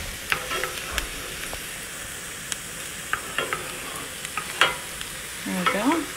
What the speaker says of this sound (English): So it's a very little bit of onion, it's a lot of oil. You can see it's cooking pretty fast here.